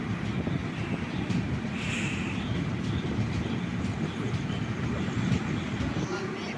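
The 16316 Kochuveli Mysuru Express pulls into Ernakulam Junction in light drizzle, a steady, heavy rail rumble with faint wheel clatter heard from on board, loud and unbroken throughout.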